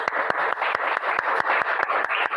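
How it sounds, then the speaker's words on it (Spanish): Church congregation clapping in a steady, evenly spaced rhythm, each sharp hand clap cutting through a continuous wash of crowd noise and cheering, moderately loud and close. "Denle un aplauso al Señor"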